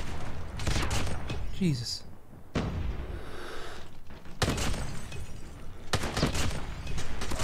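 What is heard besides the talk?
shotgun fire with Striker attachment in a video game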